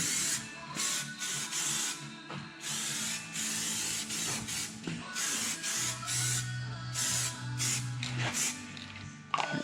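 Black Rust-Oleum spray paint hisses from an aerosol can in repeated short bursts while touching up a steel dump bed, with brief mechanical clicks and pauses between passes, close and fairly loud.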